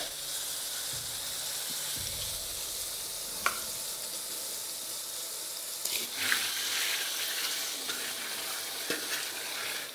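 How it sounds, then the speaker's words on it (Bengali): Marinated chicken dropped into a pan of fried onions, a loud, close, continuous sizzle with occasional stirring scrapes and clinks on high flame. "ঠিক এই স্টেজে আপনাদের দিয়ে দিতে হবে ম্যারিনেট করা"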